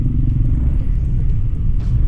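Car engine and road noise while driving in slow traffic on the way to a Sumisho office: a steady, close, low rumble fills the cabin throughout with no talking.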